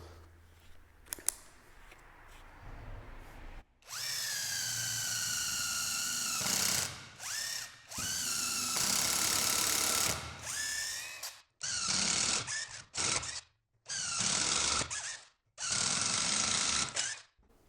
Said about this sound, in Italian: proviamo a forare il legno con una punta per legno che abbia il codolo esagonale da 1/4 di pollice